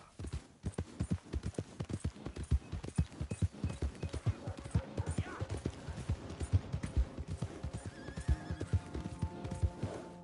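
Horse hooves clip-clop steadily and close throughout, with a whinny mixed in, in the open-world video game Red Dead Redemption 2.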